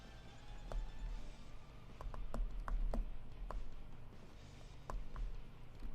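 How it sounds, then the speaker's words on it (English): Keyboard typing during a gaming session, a scatter of sharp irregular key taps over a steady background hum, fairly faint. "I hate typing in this game."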